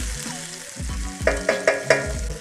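Garlic and charred tomatoes frying in a pan, a steady sizzle with clear repeated scrapes and taps of a utensil stirring, the last four strokes evenly spaced and close.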